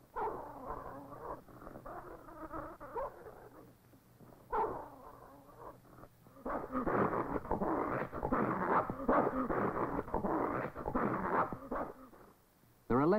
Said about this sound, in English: It is Moses's job to feed the dogs. Food is scarce, and they fight over every piece